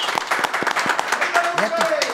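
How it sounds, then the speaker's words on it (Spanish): A studio audience on a Spanish-language comedy show applauds steadily for all the women. The dense clapping runs under whoops, cheers and overlapping voices throughout. "Un aplauso para todas las mujeres."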